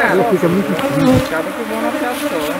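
Honeybees swarming around a hive being smoked, a dense, loud buzzing close by that holds steady throughout, with a person talking over it.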